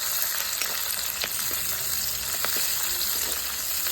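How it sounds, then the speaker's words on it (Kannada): Fenugreek leaves and chopped onion fry in hot oil in a pan, a close, continuous crackling sizzle with faint stirring scrapes over it and no voices. "ಮೆಂತ್ಯ ಪಲ್ಯ ಹಾಕ್ಕೊಂಡು ಅದನ್ನು ಕರೆಕ್ಟಾಗಿ ಮೆಂತ್ಯ ಪಲ್ಯನ ಆಯಿಲಲ್ಲಿ ಬೇಯಿಸ್ಬೇಕು"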